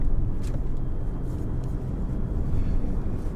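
A 2001 Audi S6 sedan on a test drive gives a steady interior engine and road rumble with tire noise, moderately loud, and no talking.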